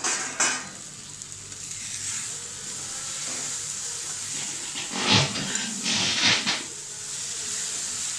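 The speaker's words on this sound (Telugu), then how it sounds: "తర్వాత మూత తీసి ఒకసారి అంతా కలుపుకుందాం." Tomatoes frying in a pan for a curry with small lentil dumplings, a soft steady sizzle broken by a few louder bursts of scraping as the mixture is stirred, with no talk.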